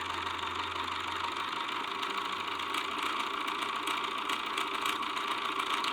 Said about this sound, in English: so just feed your sleeve under your foot. And stitch along that edge.